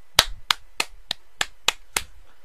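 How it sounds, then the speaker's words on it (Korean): A short burst of about seven sharp, evenly spaced hand claps at a church Bible study, close and crisp with silence between them. "박수."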